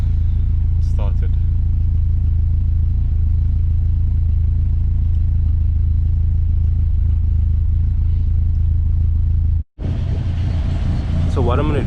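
A VW MK2 Golf with a hot-start problem runs after starting, settling into a steady, close idle with a low, even hum and a brief dropout near the end.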